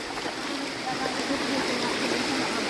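A spring-fed mountain stream rushes over stones in a constant, close, bright hiss of flowing water with no pauses.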